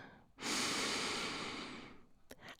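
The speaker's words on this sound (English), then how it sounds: "Let's start by taking a big, deep breath together." One long, deep breath drawn in close to the microphone, a steady airy rush lasting over a second before it tapers off, then a couple of faint soft clicks.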